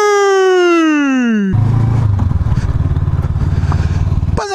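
A 2019 Honda CB500X motorcycle rides along, its engine rumbling steadily and loud up close, with a brief revving whine at the start.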